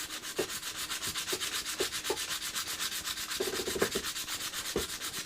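Steady hand sanding with a small hollow oscillating spindle sander drum used unpowered while sharpening a luthier's hand tool, close and continuous rasping with repeated rhythmic strokes and soft knocks, no talking.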